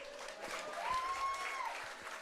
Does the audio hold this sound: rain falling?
no